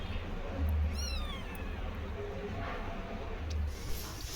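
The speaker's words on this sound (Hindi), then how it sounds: "मैं अपने बिल्ली के बच्चों की वजह से। बच्चे खेल रहे हैं, दोनों ची ची ची ची ची कर रहा है।" Kittens at play give a squeaky rising-and-falling meow, with faint squeaks and household noise around them; voices murmur softly in the background.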